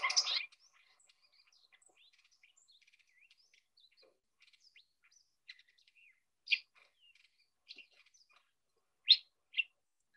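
Hooded Oriole singing a babbling song of mimicked calls from other birds, with a loud burst at the start and then faint, scattered chirps and several clear short notes later on.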